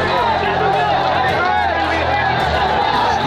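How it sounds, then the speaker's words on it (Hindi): An angry crowd chants slogans outside the Munger Kotwali police station, a dense, continuous roar of many voices close by with steady loud babble throughout. "मुंगेर कुतवाली के सामने हाय हाय के नारे लगाती है भीड़"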